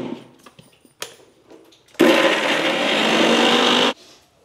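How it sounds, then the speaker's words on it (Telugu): A mixer grinder whirs loudly for about two seconds as it blends sweet lime fruit with a protein mix, then cuts off abruptly, with faint knocks and handling sounds before it starts. "మొత్తం మిక్సీ పట్టేద్దాం ఒకసారి."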